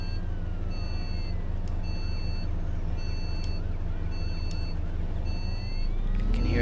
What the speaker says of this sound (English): Can hear an emergency vehicle somewhere.